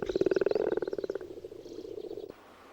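Frogs croak at a cold mountain lake in the Tatra Mountains, a fast pulsing chorus of rhythmic croaks close by that slows and fades before stopping abruptly.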